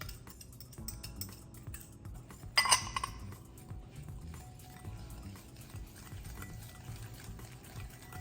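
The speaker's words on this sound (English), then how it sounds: "we are going to stir together the sugar, egg yolk, and cornstarch" A spoon stirs sugar, egg yolk and cornstarch together in a bowl, giving soft, faint scraping throughout, with a brief cluster of sharp clinks against the bowl near the middle.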